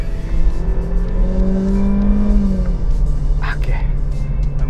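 A Mercedes-Benz CLA 180 with a dual-clutch transmission revs up after a downshift, its engine note swelling and rising, then easing back down. The sound is loud and close, with a faint voice near the end.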